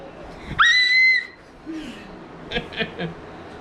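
A single high, shrieking scream, rising then held for under a second, rings out loudly at a hot dog eating contest, followed by scattered speech and murmurs.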